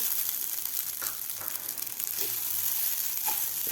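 Sabudana and vermicelli frying in ghee give a steady, dense sizzle close by, with faint stirring scrapes now and then, and no voices.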